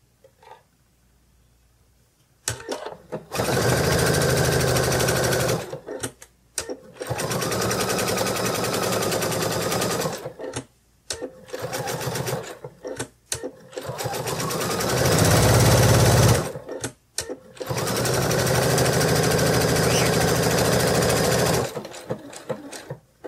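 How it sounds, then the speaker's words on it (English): A sewing machine stitches two pieces of plush fabric for a toy kitty's tail, running in loud sustained bursts with short pauses between seams. "You're going to put two pieces with their right sides together and sew all the way around"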